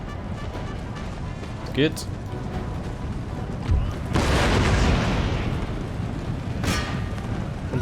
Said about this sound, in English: The cannons here can do their job.